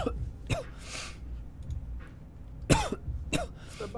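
A person coughs several times in harsh, close bursts separated by short pauses.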